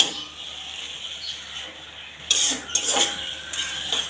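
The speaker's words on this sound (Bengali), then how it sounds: "এখন আবার নাড়াচাড়া দিয়ে নেব" Jute leaf greens are stirred in a covered pan: soft scraping of a utensil against the pan over a low hiss, followed by a few louder clinks and scrapes as the greens are turned.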